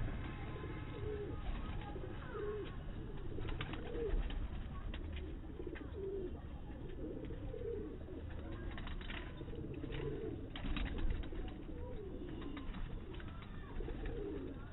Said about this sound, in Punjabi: ਇਹ ਬੜੇ ਅੱਛੇ ਜਿਹੇ ਕਬੂਤਰ